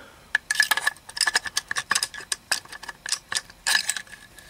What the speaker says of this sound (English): Next, we're going to just remove the bolt from the